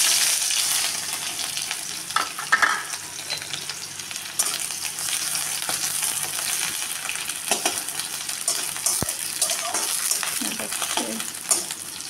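Onion and green chilli dropped into hot oil in a kadai, a steady close crackling sizzle with occasional stirring scrapes and light utensil clinks.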